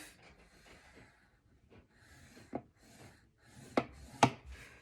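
A butter knife scores lines into a paper gift card holder, making faint dry rubbing strokes with a few sharper scraping taps near the end, close and quiet with breathing in the background.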